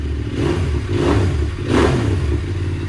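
An SRT 800 SX motorcycle with a Scorpiovic HP exhaust pipe idles close by with a throaty, loud rumble. It gets two quick throttle blips that swell and fall back.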